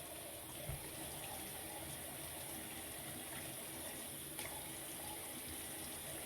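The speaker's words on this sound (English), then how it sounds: "I'm just adding a little water to the shave cream" Water trickling from a running tap into shaving cream lather, a steady soft hiss with a couple of faint clicks and knocks, close and fairly quiet.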